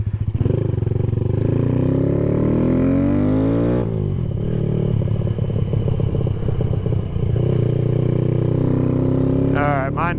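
A Stage 2 Honda Grom motorcycle fitted with a DHM high compression piston, cam and tune revs loudly up close, climbing through the gears with a sharp shift midway, then steadying into a buzzing, pulsing ride.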